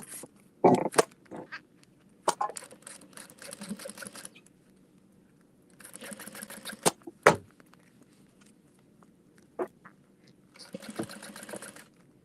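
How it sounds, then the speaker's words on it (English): A sewing machine top stitches through clear vinyl and zipper tape along a folded edge of a beauty bag, running in several short bursts of rapid stitching separated by pauses and small handling clicks. "I'm gonna top stitch through the clear vinyl and through the zipper tape"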